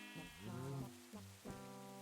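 A quiet in-game rain patter sits under two or three close, wavering sheep bleats from a cute Minecraft-style crafting game, each call short and clearly separated, with no voices.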